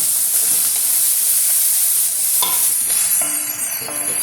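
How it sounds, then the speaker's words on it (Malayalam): Carrot pieces and small beans are stirred in a hot cooking pan, a steady sizzling hiss with soft scraping stir strokes, loud and close throughout. "ഒരു രണ്ട് ചെറിയ ബീൻസ് അതും കൂടി ഇടുന്നു നന്നായിട്ട് നമുക്കൊന്ന് ഇളക്കി കൊടുക്കാം"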